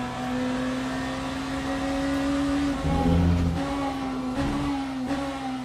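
Hypercar engine in the racing game Le Mans Ultimate at Imola, a steady high-pitched whine holding a constant tone, briefly dropping near the middle as it shifts, then climbing back, loud and continuous with no talk.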